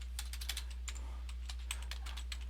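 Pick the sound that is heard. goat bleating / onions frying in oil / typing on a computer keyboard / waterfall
typing on a computer keyboard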